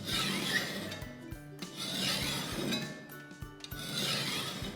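A hand file rasps steadily across the edge of a curved steel card scraper, giving repeated close, scratchy strokes with brief pauses and light metallic clinks, and no talking.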